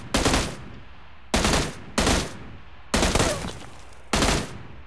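Repeated gunfire bursts in the battle royale game PUBG Lite, five sharp, loud volleys about a second apart, each decaying briefly before the next, with no talk over them.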